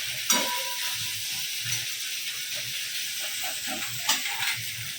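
A ginger-garlic paste and tomato masala fries in a pan for a fish dish, giving a close, continuous hissing sizzle with a few soft stirring taps and low background rumble, no speech.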